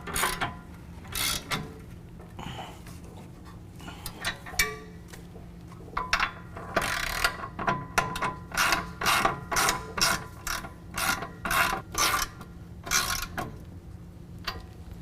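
A ratchet tightening brake caliper bolts on a truck with a Power Stop Z36 brake kit, a rapid series of close, crisp clicking bursts that speeds into a steady rhythm.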